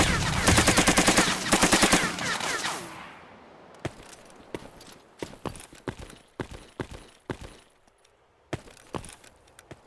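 Gunfire in the video game STALKER Narodnaya Solyanka: a loud burst of rapid automatic shots at the start, followed by scattered single and paired shots of varying distance over a quieter background.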